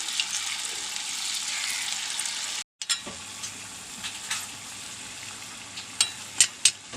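Small drops of pakkuvada batter fry in hot oil with a bright, continuous sizzle that cuts out briefly, then returns quieter with scattered sharp pops and clinks.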